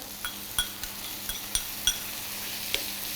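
Fig pieces stirred into tuna cooking in a pan: a low, steady sizzle under a series of light, irregular clinks and scrapes from a utensil against the pan, close by.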